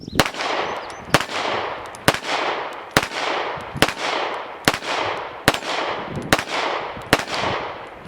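Ten evenly spaced gunshots from an Alpha Foxtrot AF 1911 pistol at an outdoor range, each a sharp loud crack with a short decaying tail, steady rhythm about one per second, no talk.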